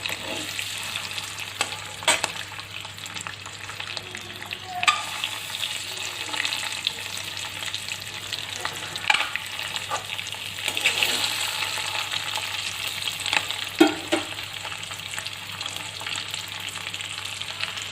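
Egg frying in hot oil, a loud continuous crackling sizzle held close for a long stretch, with scattered spatula knocks and brief bursts of spitting oil, and no talk.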